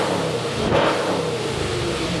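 A fifth-generation Camaro ZL1's aftermarket exhaust roars in a short, loud rev, close by, with a throaty engine note that swells briefly and then settles.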